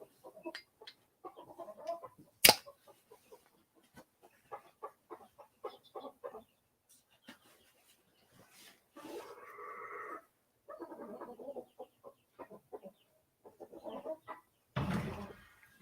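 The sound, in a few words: rooster clucking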